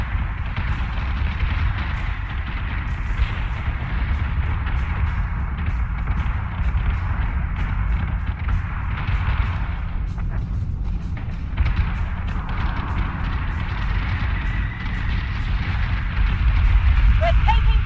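Heavy ship weapons firing in the space combat video game BSG Deadlock, a sustained roar of booming artillery-like blasts and rumbling explosions with occasional voice chatter.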